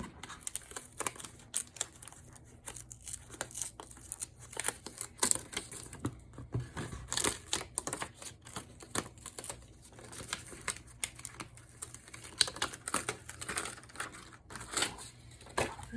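Cut paper flower shapes being peeled off a cutting mat, a close, quiet series of irregular crinkling, ticking and tearing sounds with no talking.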